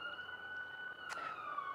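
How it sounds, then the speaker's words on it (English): A siren wails faintly in the distance across a Los Angeles cityscape, a thin steady tone that slowly slides in pitch beneath low background hiss. "We have sirens in the background, right?"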